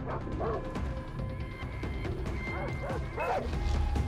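Dogs bark in the video game Far Cry 3, repeated yips and barks under game noise with thuds and clatter, plus some faint whimpering, moderately loud.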